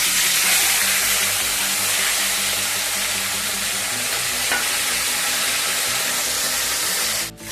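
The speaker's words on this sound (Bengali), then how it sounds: "এবার আমি মুড়োগুলোকে এক এক করে ভাজবো।" Catla fish heads fry in hot oil in a wok, giving a loud, steady sizzle that hisses without pause before cutting off abruptly near the end.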